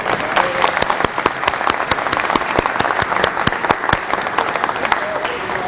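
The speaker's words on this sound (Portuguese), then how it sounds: "vou dar salva de palmas para você" An audience at an Expo Money 2010 investment lecture gives a round of applause. The many hands produce a dense, sustained patter of crisp claps, close and fairly loud, with faint crowd murmur underneath.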